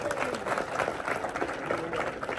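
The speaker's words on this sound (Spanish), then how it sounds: "¡Un aplauso!" Audience applause at a live comedy show, a fairly faint, continuous patter of clapping from the crowd, with voices and cheering mixed underneath.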